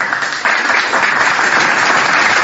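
A live audience at a talk on Christian teaching gives loud, continuous applause for the full two and a half seconds, with no voices heard.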